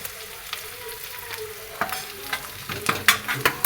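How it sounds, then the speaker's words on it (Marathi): Curry leaves and spring onion frying in a pan, a close crackling sizzle with stirring scrapes and clinks that grow busier toward the end. "कढीपत्ता घातलेला आहे थोडंसं त्याला हलवायचं आहे आता त्याच्यात आपण घालत आहोत कांद्याची पात"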